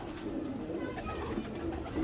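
Lakha pigeons kept in a village loft coo softly, a faint low murmuring call repeating over quiet background noise.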